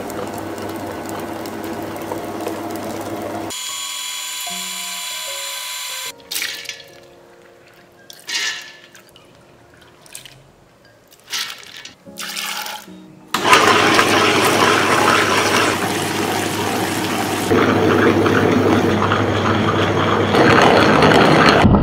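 Wet grinder churning soaked, twice-washed urad dal into fine idli batter, a steady loud motor hum and grind that drops to quieter clatter mid-way, then returns strong and continuous.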